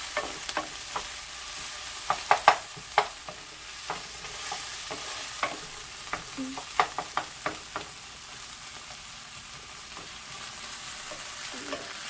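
Methi aloo, potatoes with fenugreek leaves and ginger, frying in a pan under a steady sizzle, with scattered sharp clicks and scrapes from stirring throughout. No one speaks.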